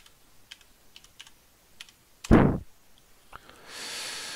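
Typing on a computer keyboard: a short series of light key taps, then a louder thump, followed by a hiss of background noise.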